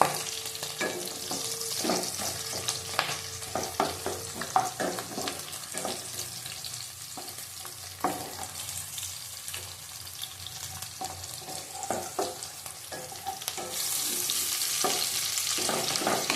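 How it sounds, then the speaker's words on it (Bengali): Onions frying in a pan, a continuous close sizzle broken by repeated spatula scrapes and taps at an irregular pace, the hiss swelling louder near the end, with no speech. "পেঁয়াজটা ভাজা হয়ে এসছে।"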